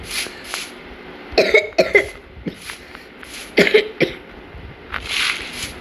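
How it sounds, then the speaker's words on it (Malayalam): Several short, close coughs come in clusters, with brief throat sounds between them and quiet gaps separating each bout. "ചുമയാണ്."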